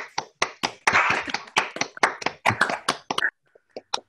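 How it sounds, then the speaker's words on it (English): Scattered clapping from participants unmuted on a Zoom call, a few uneven, close claps in quick bursts that thin out to sparse single claps. "if you could unmute at this point and actually clap rather than merely do a little Zoom clap"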